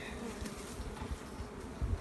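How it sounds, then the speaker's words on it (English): Many bees hum and buzz together in a hive, a dense, steady drone, close by and fairly quiet, with no voices. "every one of these seams is full of bees."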